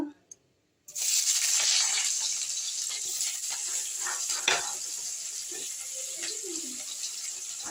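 Chopped onions dropped into hot oil in a pan burst into a loud, steady sizzle after a brief silence, with occasional stirring knocks and scrapes over the continuous hiss, and a faint voice murmuring in the background.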